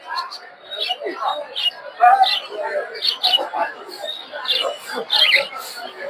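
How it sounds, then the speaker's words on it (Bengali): A crowd of caged quails at a poultry market in Tongi keeps up busy, repeated short chirps and squawks close by, with market voices mixed in. "দর্শক দেখতে পাচ্ছেন এই জায়গায় অনেকগুলো কোয়েল পাখি।"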